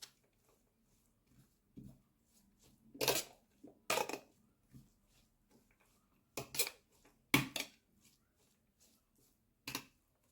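Carrot sambal being mixed in a bowl, with sparse spoon scrapes and sharp clinks against the bowl at uneven intervals, close and fairly quiet with near silence between strokes.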